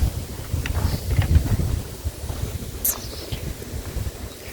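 Wind gusts buffet the microphone outdoors in a Thai rural setting at dusk, a steady low rumbling blow with a few brief stronger pushes, heard alone without talk.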